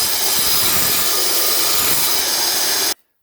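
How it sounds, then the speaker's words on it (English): A tile saw with its blade tilted to 45 degrees cuts the rough edges of granite tile in a loud, continuous, gritty whine that runs close and unbroken, then stops abruptly. "I went and set my blade on my tile saw to a 45-degree angle"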